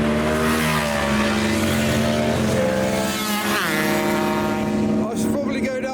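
Performance Ford cars, including a first-generation Focus RS, arriving at a car show, their loud engines droning and revving close by, with rising and falling pitch as they pass and a voice talking over the noise.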